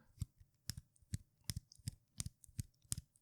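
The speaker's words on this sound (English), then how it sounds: "there's a constant like clicking sound when you crunch it in" A Marvel Legends Retro Cyborg Spider-Man action figure's ab crunch joint is flexed repeatedly, giving a steady series of about a dozen sharp plastic clicks, close to the microphone and alone.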